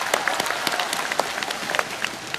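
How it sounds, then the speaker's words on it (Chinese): Audience applause for two lead actors at a stand-up comedy show, a fairly soft, steady patter of many hands clapping with scattered sharper claps and no talking. "我们掌声给这两位主演吧"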